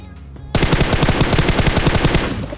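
Automatic gunfire in a battle royale video game bursts in suddenly after a quiet half second, then a long, loud, rapid stream of shots continues without talking.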